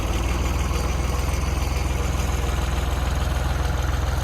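A tractor running a three-point logging winch idles steadily nearby with a low, even chugging rumble that never changes pace.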